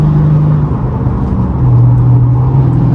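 A Hemi Dodge Challenger SRT 392 Scat Pack V8 heard from inside while driving produces a loud, continuous low engine drone with a deep steady rumble that rises slightly in pitch toward the end.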